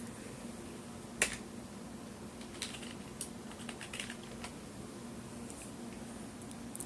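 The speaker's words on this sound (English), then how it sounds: "you hit the Windows key and then type in DISK space MAN" Typing on a computer keyboard under Windows 10, a handful of scattered, fairly quiet key clicks with a louder tap early on, over a faint room hum and with no one talking.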